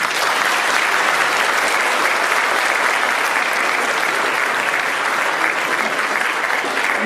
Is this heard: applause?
yes